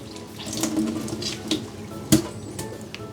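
Running warm tap water splashes steadily while rinsing an oil paint brush, with a few sharper splashes and knocks, close and fairly quiet, no voices.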